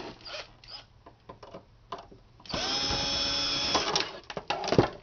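Screws being removed from a computer scanner with a power drill, scattered clicks and scrapes followed by a sustained whirring drill run of about a second, then more handling rattles and taps, close and fairly loud.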